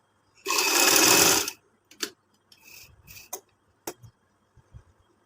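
A sewing machine stitches a flat collar in one loud, close burst of about a second, followed by a few short whirs and scattered clicks and taps of handling the fabric.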